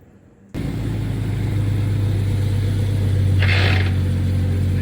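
A 1992 Jeep Cherokee with a swapped-in Dana 44 axle drives in super low gear, starting abruptly into a loud, steady drivetrain drone with a rising whine and a brief hiss partway through.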